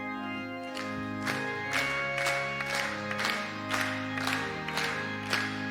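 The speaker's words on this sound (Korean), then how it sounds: "격려의 박수 해주시면 감사하겠습니다" A church congregation claps along in steady rhythmic beats over sustained organ or music tones, loud and full as a hymn begins.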